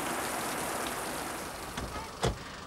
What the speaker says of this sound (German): Und weil wir im Regenwald sind, regnet es auch immer wieder mal kurz und heftig.